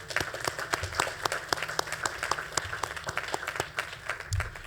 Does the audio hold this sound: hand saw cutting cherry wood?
no